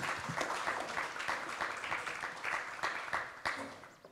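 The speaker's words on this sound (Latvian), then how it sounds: "tad jūs nākat ar aplausiem" Audience applause greets panelists walking onstage at a fintech globalization conference, a steady dense patter of many hands clapping at even strength throughout, with no talk over it.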